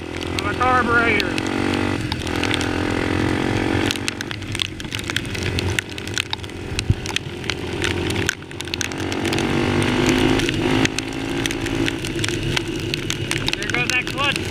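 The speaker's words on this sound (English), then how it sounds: "There goes that clutch slippage." A motorcycle engine with a suspected carburetor problem revs hard and unevenly as its clutch slips, rising and falling in loud, close surges that run almost without a break and fade briefly a few times.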